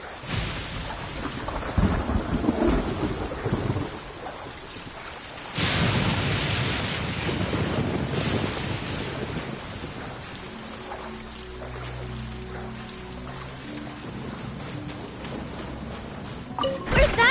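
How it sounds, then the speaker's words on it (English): Steady rain hisses throughout as thunder rumbles and cracks, with a loud burst partway through and a deep rolling peal near the end. "Raining again."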